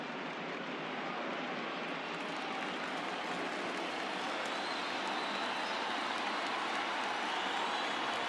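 A baseball crowd in the MLB The Show 20 video game, at a World Series postseason game between the Cardinals and Yankees, roars steadily and swells slightly with no commentary over it.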